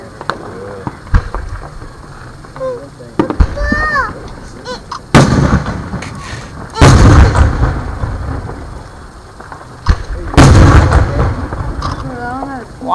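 A Fourth of July fireworks show sets off loud explosions in bursts, with booming blasts and crackling. Sharp launch whistles rise between them, and people talk and react in the gaps.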